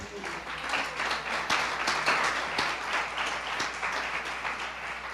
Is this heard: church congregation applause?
yes